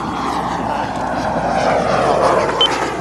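A Boomerang ATOM RC model plane drones overhead, a steady engine whine that swells slightly as it passes at moderate distance, continuous throughout.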